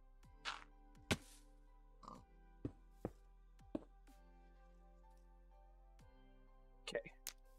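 A handful of short pig oinks and grunts in a Minecraft-style hardcore survival game sound at scattered intervals over near silence, fairly close and clear.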